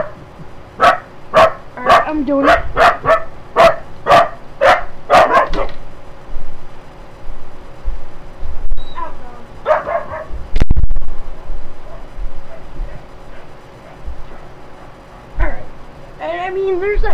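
A dog barks repeatedly in a quick rhythmic series of sharp, loud barks near the microphone, then goes quieter with occasional yips while someone talks.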